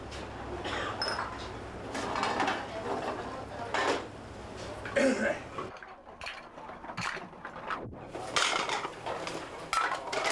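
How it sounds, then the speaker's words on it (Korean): Used bowls and dishes clattering as customers carry them to the sink in a cheap gukbap restaurant, with steady clinks of crockery and cutlery amid busy room noise and murmured talk. "다 먹고 난 그릇은 손님들이 알아서 개수대까지 치우고 돌아간다."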